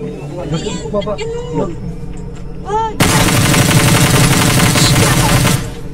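Voices talk over Knives Out game sounds, then sustained rapid gunfire erupts and continues loudly for several seconds, dense and close.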